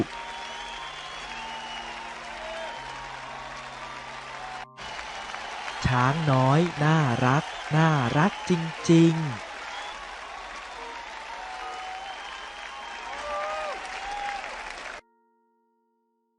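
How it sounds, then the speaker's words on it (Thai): Broad, continuous audience applause plays in a children's story about a cute little elephant performer, running steadily under a voice that speaks and sings in the middle. "คนดูปรบมือหัวเราะร้องเรียก"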